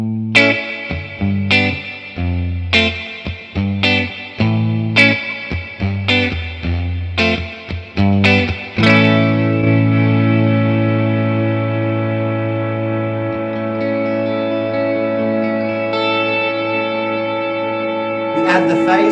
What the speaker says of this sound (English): when we hold the foot switch down on that sound, it creates an ambient spring wash